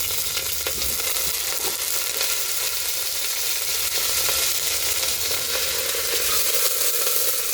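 Cauliflower pieces frying in hot oil with cumin and green chillies in a pan, producing a loud, steady, dense sizzle and crackle that stays even from start to finish.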